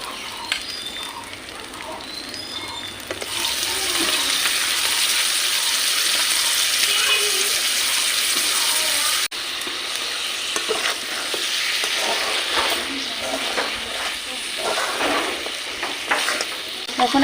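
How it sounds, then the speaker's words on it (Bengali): Mutton pieces tip into a fried spice paste for curry, and a loud sizzle bursts up at once, then holds steady with stirring scrapes. "এখন আমি মাংস দিয়ে দেবো।"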